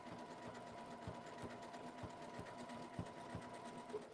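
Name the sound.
sewing machine stitching piping on an apron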